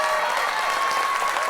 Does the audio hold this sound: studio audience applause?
yes